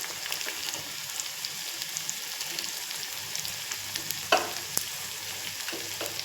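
Fresh curry leaves frying in hot oil for a dal tempering, a faint steady crackling sizzle with scattered tiny pops and one or two sharper clicks near the end, heard without talk.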